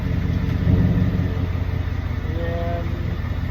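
A 2014 Ford F-150 with the Coyote V8 idles in park after a stop, giving a steady, close, low rumble with an even throb and no revving.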